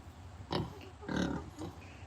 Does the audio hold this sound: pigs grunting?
yes